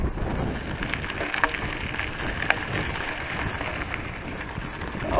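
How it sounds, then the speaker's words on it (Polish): Passing rain showers patter steadily on a surface outdoors, mixed with gusts of wind buffeting the microphone and a few sharper drops or knocks, continuous and close. "Ale to są dzisiaj takie przejściowe deszcze,"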